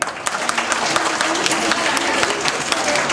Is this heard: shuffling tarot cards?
no